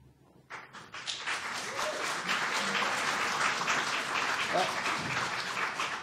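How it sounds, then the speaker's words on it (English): Audience at a university journalism awards night clapping together on request, a dense swell of many hands that starts sparse and quickly fills the hall, steady and moderately loud with faint voices mixed in. "could I get a clap from all the people at the back?"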